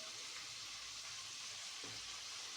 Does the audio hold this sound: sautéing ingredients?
yes